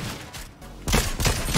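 Gunfire from the Fortnite video game cracks out in a quick burst of shots in the second half, after a quieter stretch, close and fairly loud.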